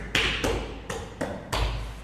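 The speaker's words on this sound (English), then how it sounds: "You hit this wall, and you hit this wall," A hand knocks on a thick load-bearing wall inside a hotel residence in Kuala Lumpur, five dull solid taps in an uneven rhythm, close and fairly loud with short room echo.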